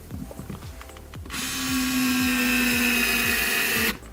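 A high-pitched power tool whirs steadily for a few seconds while driving screws into a rear window motor on a 2008-2017 Ford Fiesta, preceded by faint clicks and handling sounds, then stopping abruptly.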